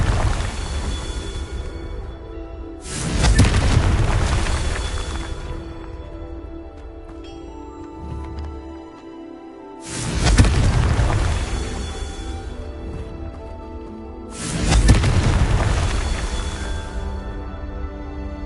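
The Confringo blasting spell in a wizarding video game sets off three deep, rumbling explosion-like booms spaced several seconds apart, loud and washing over a steady low ambient drone.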